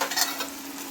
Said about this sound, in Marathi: त्याच्यामध्ये आपण एक खोबरं लसूणची पेस्ट टाकून घेऊ. थोडीशीच परतायची.